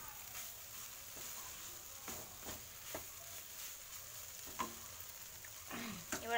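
Soybean curry with shrimp sautés in a pan, giving a soft, steady sizzle with occasional clicks and scrapes as it is stirred, quiet and close.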